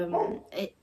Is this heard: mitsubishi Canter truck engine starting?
no